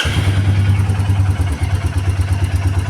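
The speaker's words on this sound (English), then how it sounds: "So let me start my bike now." A Royal Enfield Meteor 350 motorcycle, fitted with an oil cooler, idles close by with a steady low thumping beat and a brief dip in the middle.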